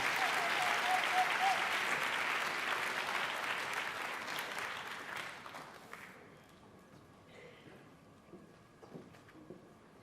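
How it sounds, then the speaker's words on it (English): Loud sustained applause from a graduation ceremony audience, dense and steady at first, then thinning and fading to scattered claps over ten seconds. "Let's give her another round of applause."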